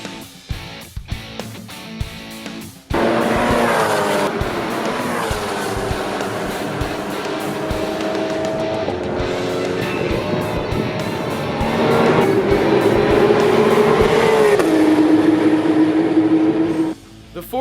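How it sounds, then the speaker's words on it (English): A 1966 Ford GT40 race car driven hard, heard from inside as the engine roars steadily for a long stretch with rising and falling revs and a gear change, loud and close, starting and ending abruptly. "I'm going to be riding in, a 1966 Ford GT40."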